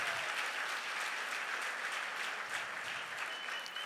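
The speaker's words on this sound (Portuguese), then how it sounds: "Pode aplaudir Jesus." A church congregation claps steadily for several seconds, a dense and fairly distant patter of many hands with no talk over it.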